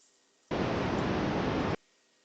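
A steady, broadband rushing water sound, like a constant stream or shower, starting abruptly and holding even for about a second before cutting off.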